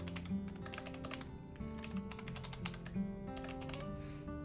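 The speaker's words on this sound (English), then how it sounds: "Sorry, I am typing." Rapid computer keyboard typing during a WolfQuest gaming session, a steady run of light clicking keystrokes close to the mic, alone with no talk, over a soft background hum.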